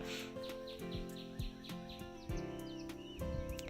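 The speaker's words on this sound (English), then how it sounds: "Waking up to the sound of birds chirping outside" Birds chirp in a dating sim video game, short tweets scattered over soft layered background music, quiet and steady.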